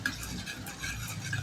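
Onions sautéing in a pan for a mushroom and potato curry give a steady, close frying hiss with faint stirring ticks, continuous and even throughout, with no talking.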